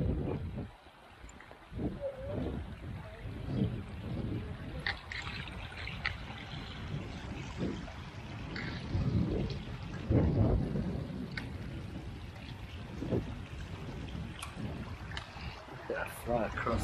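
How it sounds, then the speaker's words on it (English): Water splashes and gurgles as people wade in boots across an Icelandic stream on the Fimmvorduhals trail, with irregular sloshing close by and people talking over it. "This could be our last Icelandic stream crossing."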